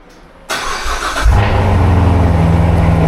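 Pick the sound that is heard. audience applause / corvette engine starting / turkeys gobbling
corvette engine starting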